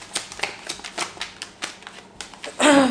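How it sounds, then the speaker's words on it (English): Tarot cards are riffled and pulled in a quick series of crisp flicks and taps, about a dozen sharp snaps in close succession, followed by a louder, brighter rustle at the end. "we're going to pull some tarot cards"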